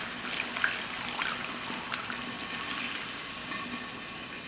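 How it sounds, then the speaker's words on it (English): Water pours steadily into a pot of Trini curry eggplant and potato, a continuous faint trickling splash over a quiet kitchen. "So I'm going to add water"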